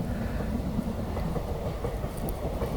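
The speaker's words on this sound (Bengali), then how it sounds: "এই যে ট্রেন ঢুকে গেছে।" A train pulls into a small railway station in a forest, its wheels and carriages giving a steady rumbling clatter at moderate distance without speech.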